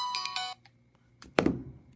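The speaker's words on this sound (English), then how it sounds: "Sorry, that's my alarm." Half a second of a bright, chiming phone alarm ringtone, followed by a short gap and a dull thunk, all fairly faint.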